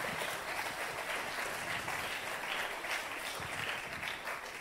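An audience at a conference applauds at the close, with sustained, even clapping from many hands that is fairly distant and soft, with no talk over it.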